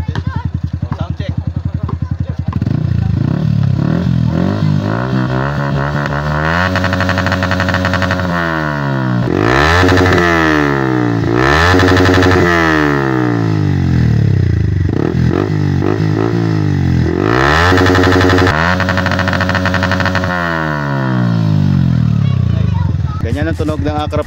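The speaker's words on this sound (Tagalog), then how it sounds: "Ganyan ang tunog ng Akrapovic M1 dito sa ating Yamaha R15 V3." A Yamaha R15 V3 motorcycle fitted with an Akrapovic M1 exhaust and no silencer revs loudly close up, rising and falling through several throttle blips over a rough idle.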